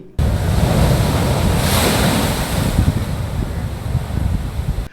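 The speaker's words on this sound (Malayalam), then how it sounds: "കടൽ ഭിത്തി കടന്ന തിര കരയിലേക്ക് കയറി" Sea waves surge over a concrete sea wall onto the shore in a continuous loud roar of surf mixed with wind buffeting the microphone, with no voices.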